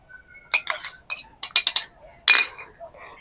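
A teaspoon stirring salt into amla pickle in a glass jar or bowl, giving bright, close clinks and scrapes in irregular bursts between short gaps.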